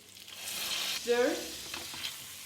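Pork belly sizzles in a pan with ginger, garlic and chili paste as it is stirred, a continuous close frying hiss with a brief scraping swell in the middle of the short stretch.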